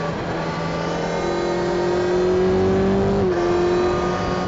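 Yamaha Tracer 9 GT+ motorcycle with a 120-horsepower engine, revving steadily and loud at close range, a sustained tone that rises slightly before dropping near the end.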